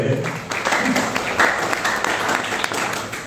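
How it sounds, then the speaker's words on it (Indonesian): Audience applause for a guest at a vocational high school curriculum-alignment event, continuous clapping from a seated crowd with a speaking voice briefly at the start and murmurs throughout. "Tepuk tangan untuk beliau sudah."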